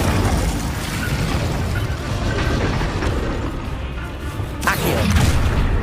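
Incendio fire spell cast in the Hogwarts Legacy video game, a dense roaring whoosh of flame with crackling bursts and a sharp impact near the end, loud and continuous.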